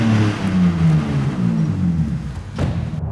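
A BMW M4 CSL engine idles with a low, rumbling burble that rises and falls, with a thump near the end.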